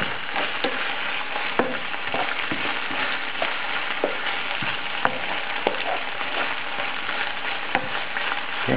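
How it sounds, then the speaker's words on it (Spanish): Shrimp stirred with softened onion in a hot frying pan, for fish-stuffed piquillo peppers, give a steady close sizzle broken by scattered clicks and scrapes of the utensil, with no talking. "ya tenemos pochada la cebolla y ahora añadimos las gambas. Y ahora vamos mezclando."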